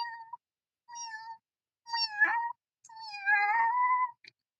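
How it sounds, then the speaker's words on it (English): A domestic cat meows several times in short, clear, fairly close calls with pauses between them, the later ones longer and more drawn out, with no talking. "If you hear your cat going,"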